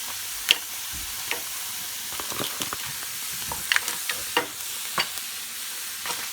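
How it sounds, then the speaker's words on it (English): Crab claws frying with ginger and garlic in a pan over medium heat, giving a steady soft sizzle with frequent sharp crackles and pops scattered throughout, close by with no talking. "I'm going to throw in these crab claws"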